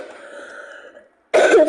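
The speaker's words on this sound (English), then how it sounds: "Sorry for all the coughing, guys." A person with a cold coughs and clears their throat, a short harsh burst near the microphone after a faint stretch of background game sound.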